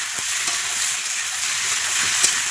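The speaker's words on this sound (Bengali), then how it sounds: "চলো আলুটা ভেজে নিই" Potatoes fry in a hot pan of oil with a steady, bright sizzle, occasional stirring clicks and small pops breaking through the continuous hiss.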